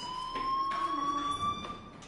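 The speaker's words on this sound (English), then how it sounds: "do you hear that fire alarm? That means you should be outside." Fire alarm ringing inside a school in the video game Life Is Strange: a steady, piercing electronic tone held throughout at moderate level, with faint background noise under it.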